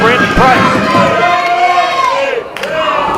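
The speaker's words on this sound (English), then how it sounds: "I'll tell you what, this crowd is livid right now." Wrestling fans at the Impact Arena shout and roar loudly, a dense wall of crowd noise with individual yells rising above it, swelling and dipping during a ringside brawl.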